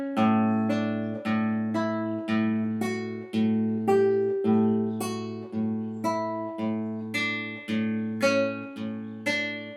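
Acoustic guitar picking a simple melody with an open A bass string plucked after every note, a steady alternating pulse of plucks ringing close and clear for about ten seconds.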